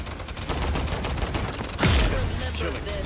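Rapid bursts of gunfire in the online shooter Paladins, a dense rattling fusillade with a sharper blast midway and continued shots after, with game effects mixed in.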